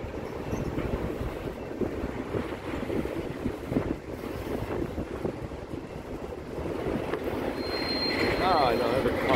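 A Conrail freight railcar rolling past at Hobson Yard in Lincoln, Nebraska, a steady clattering rumble with wind buffeting the microphone and a brief squeal near the end.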